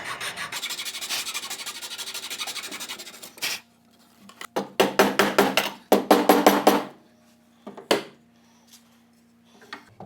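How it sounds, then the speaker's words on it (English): A hacksaw cuts through a wooden stagecoach joint in a coach shop, first a long steady rasp, then a pause, then bursts of quick back-and-forth strokes, with a few isolated scrapes near the end. "One thing I like about using a hacksaw is it'll bend to the contour."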